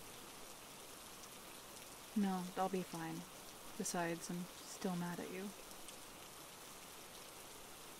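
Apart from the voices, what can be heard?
rain falling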